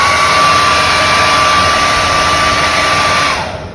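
A 2000W foldable, compact professional hair dryer blowing at steady full power, a loud constant whoosh with a faint motor whine that cuts off just before the end.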